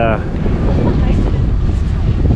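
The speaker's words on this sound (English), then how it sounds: "It's a little windy now." Heavy wind buffets the microphone in a constant low roar under an easy-up canopy at an outdoor hot dog stand, with a voice speaking briefly at the start.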